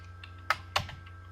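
A computer keyboard typed on during an HTML coding lesson: a few quick, crisp key clicks close by, two of them sharper and louder, over a low steady hum.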